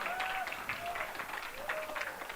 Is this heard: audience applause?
yes